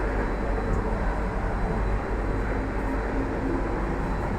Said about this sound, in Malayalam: Shoranur railway station